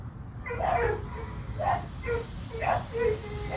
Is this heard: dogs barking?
yes